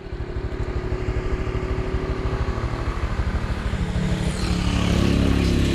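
A motorcycle engine drones steadily close up during a road trip ride, its rapid pulsing exhaust holding an even rhythm before rising and growing louder near the end, with no talking.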